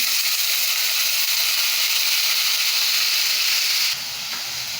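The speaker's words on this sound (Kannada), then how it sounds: "ಈಗ ಇದಕ್ಕೆ ಬೇಯಿಸಿರೋ ಹಾಗಲಕಾಯಿನ ಹಾಕ್ತಾಯಿದ್ದೀನಿ" Boiled bitter gourd dropped into a hot pan of oil with spluttered mustard seeds and cumin for a South Indian palya, giving a loud, continuous frying hiss that drops slightly in level just before the end.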